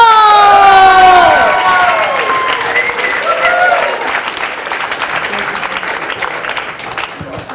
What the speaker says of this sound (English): start clapping it up for Gregory Greenwald!